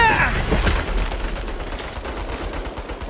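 Turrets open fire in the Saints Row video game with a dense, continuous burst of rapid gunfire that stays loud and close throughout.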